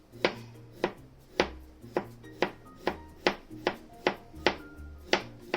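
A knife slices cucumbers for Japanese-style potato salad, striking a cutting board in a steady rhythm of about a dozen crisp, close chops spaced roughly half a second apart, with no talking.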